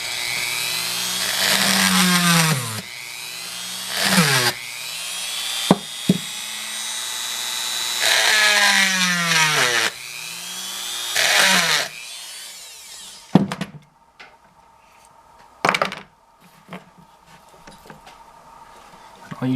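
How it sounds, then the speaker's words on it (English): A power drill bores through fastener heads in bursts of high, whining grinding, each run rising and falling in pitch, followed by sharper clanks and brief metallic knocks as the heads break free. "once you get that initial part drilled, get the bigger bit just to kind of pop the heads off"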